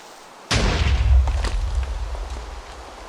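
A creeper explodes in Minecraft, a sudden loud blast that bursts out of near silence and rolls into a long rumbling tail that slowly fades.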